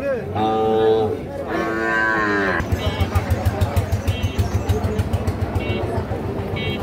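A cow moos loudly twice up close at a calf market in Tangail, Bangladesh, long drawn-out calls, followed by a steady rhythmic mechanical thumping in the background.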